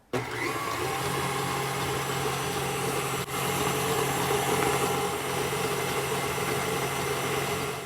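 A blender runs steadily for about eight seconds, mixing keto flourless chocolate muffin batter made without almond or coconut flour. The loud, continuous motor whir starts abruptly, with one brief dip partway through, and no one speaks.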